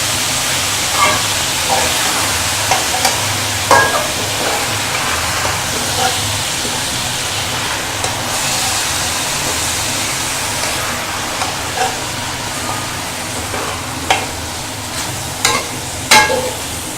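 A spoon stirs a dal mixture through spices in a hot pan for Hyderabadi makhni mathi dal, giving a steady frying sizzle with scattered scraping clicks from the utensil.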